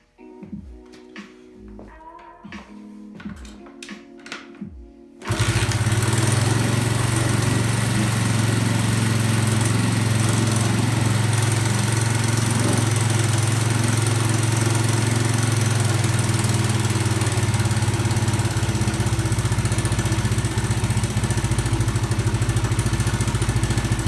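A 1981 Honda XL125s motorcycle engine catches after a kick start and runs steadily at a loud, close idle, with a few seconds of quieter clatter before it fires.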